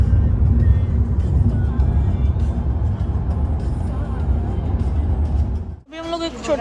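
A car driving along a road near Barcelona, Spain: a steady, loud road and engine rumble from inside the car with some voices, which cuts out abruptly near the end before a brief different sound.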